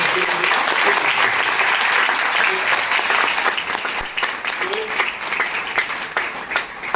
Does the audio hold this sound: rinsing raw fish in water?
no